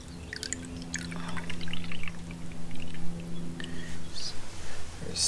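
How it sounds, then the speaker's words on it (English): Liquid lawn pre-emergent mix with humic acid and sea kelp is poured out by hand, splashing and gurgling in uneven bursts over a low steady hum, close by. "I'm pouring this out with my left hand"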